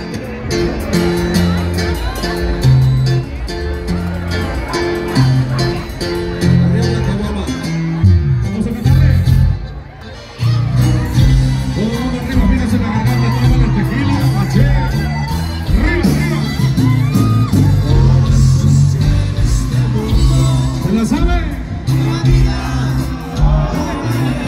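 A crowd at a Providencia de Nápoles fiesta lets out the traditional Guanajuato shout, whoops and cheers rising loud and continuous over a dense band performance, with a brief dip near the middle.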